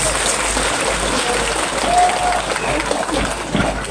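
Audience applause at an Islamic religious gathering (a school graduation event, haflah akhirussanah), a steady dense clapping wash filling the whole stretch at moderate level, with no speech over it.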